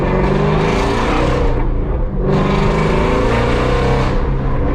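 A loud, continuous GT350 engine with catless midpipes roars and revs steadily, the exhaust note dipping briefly mid-way before surging again, close and unbroken throughout.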